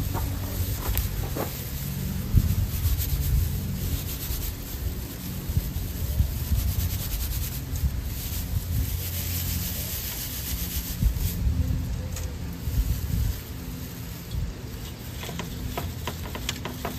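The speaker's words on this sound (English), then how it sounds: "These pine needles are so coarse, they hurt your hands to process them up." Hands rub and crush coarse pine needles outdoors, making a continuous dry, scratchy rustle close to the microphone, with wind noise and low rumbles underneath.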